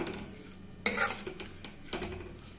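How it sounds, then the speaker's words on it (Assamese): Olive pickle being stirred in a pan, a spoon scraping and clinking against the metal with two sharp louder strokes over a faint steady sizzle, no voices. "এতিয়া এইখিনি খুব ভালদৰে লৰাই দিব"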